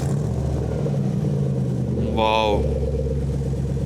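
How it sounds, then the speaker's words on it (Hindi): A Nissan Patrol's engine fires up for its first start, heard from the exhaust as a steady mid-range idle under a continuous low rumble, with a voice exclaiming briefly. "अभी आपको उसका पहला स्टार्ट सुनाऊँ, पीछे एग्जॉस्ट पे जाएँ, आपको मज़ा आएगा।"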